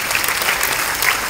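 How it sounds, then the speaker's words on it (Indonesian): A Founders Day audience breaks into a full round of applause. The loud, dense clapping is close and sustained, with no talk over it. "Itu juga tepuk tangan untuk Anda semua."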